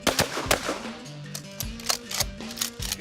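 Shotguns fired at a shooting range, a rapid series of sharp, loud cracks in quick succession close by, with clattering mechanical sounds in between.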